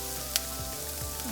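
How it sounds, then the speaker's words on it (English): Carrots fry in a pan for tomato soup, a close, steady sizzle with a brief sharp crackle early on. "next I'm going to add carrots,"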